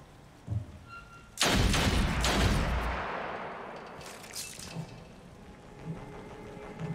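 Gunfire in the turn-based game Othercide: a loud burst of two overlapping heavy shots with a long booming tail, followed by faint scattered thumps, no talking.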